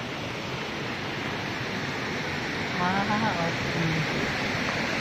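A waterfall on Samal Island near Davao roars as a dense, steady wash of falling water, close and loud. A voice speaks briefly partway through.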